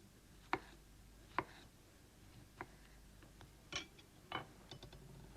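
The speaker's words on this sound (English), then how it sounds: "2 or 3 ripe tomatoes, which I cut into thin slices." Ripe tomatoes sliced thin with a knife, about half a dozen crisp, quiet cuts landing at uneven intervals over a low, steady background hiss, with no talking.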